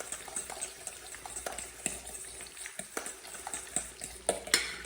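Cabbage and carrot coleslaw being stirred and tossed in a bowl, with close, irregular scraping and wet clatter of a utensil against the dish, a few sharper clinks near the end.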